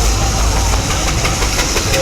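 A steam heavy haulage engine idles at a show's main arena, ticking over gently with a steady low rumble and faint rhythmic beats, fairly loud and continuous throughout.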